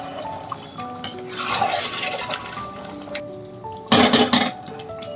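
Water is added to a pot of chicken curry and stirred, with clinking of a utensil against the metal pot and a burst of sloshing and scraping near the end, close and fairly loud.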